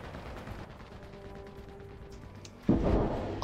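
A tank cannon shot strikes a T-55 in War Thunder as a single heavy boom near the end, after a few seconds of low engine rumble and faint distant shots.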